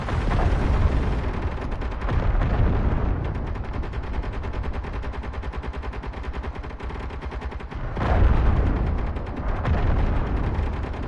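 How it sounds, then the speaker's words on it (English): Sustained rapid gunfire from a video game, with dense, continuous bursts of automatic shots and a heavier blast surge near the end, loud and without talk. "Nice shooting, Tex."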